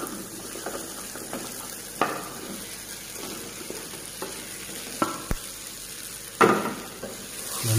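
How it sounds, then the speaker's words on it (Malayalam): Sausage goes into cooked-down tomatoes in a pan and fries with a soft steady sizzle. A few sharp clunks and scrapes from a spoon break in, with a louder stir near the end. "ഇതിലേക്ക് ഇനി നമുക്ക് നമ്മുടെ സോസേജ് ഇട്ട് കൊടുക്കാം"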